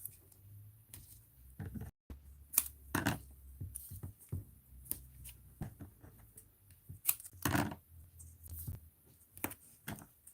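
Tape is pulled and pressed over ribbon on a handmade birthday card, a series of close, sharp crackles and rips spaced irregularly with quiet handling noise between.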